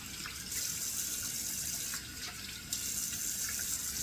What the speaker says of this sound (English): So two splashes of cold water to rinse it off.